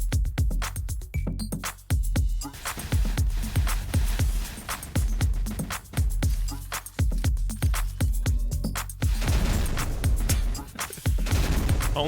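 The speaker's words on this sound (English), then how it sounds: "Only the sound of giant explosions on repeat." Rapid, heavy explosions and booming impacts in a video game trailer repeat in quick bursts, loud and punchy, with sharp cracks layered over a driving tech house beat.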